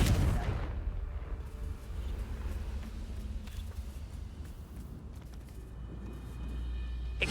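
A Confringo spell blast in Hogwarts Legacy lands with a heavy boom at the start, followed by a low rumbling aftermath and a faint swelling blast near the end.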